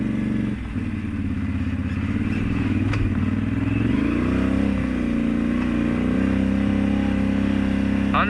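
Can-Am off-road vehicle engine running steadily while riding at an easy pace, a loud, close, continuous drone whose pitch rises and settles as it speeds up, with no talk.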